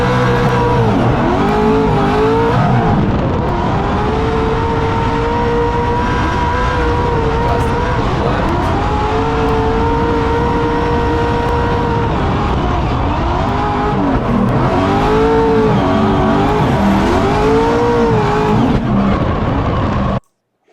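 Race car engine revving hard through gear changes during a sim racing lap, loud and continuous with rising and falling pitch sweeps, brief tire noise, ending abruptly.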